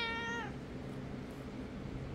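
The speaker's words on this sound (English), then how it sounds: "You are the most vocal cat I've ever had in my entire life." A very vocal cat gives a single clear meow at the start, then the rest is quieter room noise.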